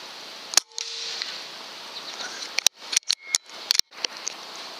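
A Benjamin Armada .22 air rifle shooting at a 4x4 wooden board while plinking: one sharp crack, then a quick cluster of several snappy shots and impacts, crisp and close with quiet pauses between.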